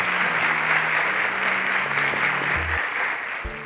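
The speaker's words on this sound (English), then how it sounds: "a round of applause for Anoluwa." Sustained, even audience applause for a departing quiz contestant, a dense wash of clapping hands with a faint low tone running underneath.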